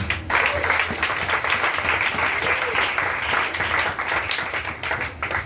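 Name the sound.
congregation applauding in church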